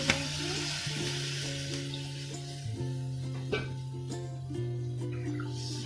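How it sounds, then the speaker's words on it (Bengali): Hot water poured into a pan of frying Bengali country chicken curry, giving a steady close sizzle with faint stirring and pan clinks, no voices. "এবার ভেজে নিয়েছি, এর মধ্যে এখন জল দিয়ে দেবো। গরম জল দিয়ে দিয়েছি।"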